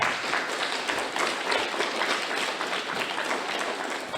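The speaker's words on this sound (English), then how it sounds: "So give them a clap." A school audience at a Reconciliation Day assembly claps for four families, a steady, fairly soft wash of many hands with no talk over it.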